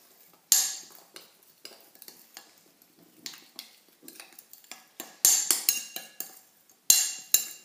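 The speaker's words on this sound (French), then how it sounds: "Je vais mélanger toutes mes épices." A spoon stirs and scrapes spices with sunflower oil in a bowl for a chicken tajine, making repeated clinks and scrapes with a few louder knocks against the sides, close up, with no talking.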